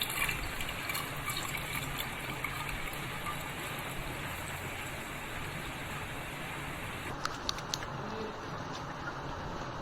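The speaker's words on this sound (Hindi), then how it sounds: "अब हम इसको छान लेंगे।" Blended loquat juice is poured through a strainer, a continuous trickling, splashing liquid flow at moderate volume, with a few faint clinks near the end.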